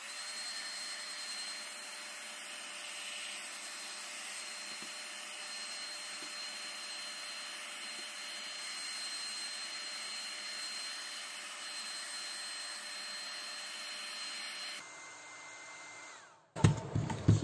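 A hair dryer blows steadily on tea-stained paper for a vintage journal, making a loud, constant whooshing hum that cuts off near the end, followed by a few close clattering handling sounds.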